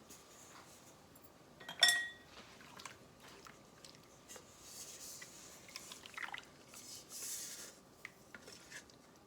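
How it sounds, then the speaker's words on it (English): Peach cobbler filling with butter poured into a pan, a quiet clink of the pan at first, then soft wet squishing and dripping sounds spread across the pour. "I'm just going to pour all of these goodies into this pan"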